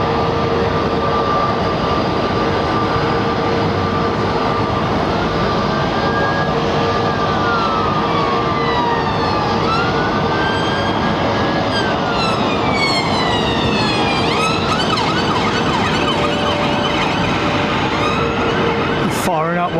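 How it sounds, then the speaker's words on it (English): A jet airliner at London Heathrow starts one engine while taxiing, its rising whine and roar loud and continuous over a steady background rumble, with sweeping tones climbing and falling throughout. "Firing up one engine on taxi."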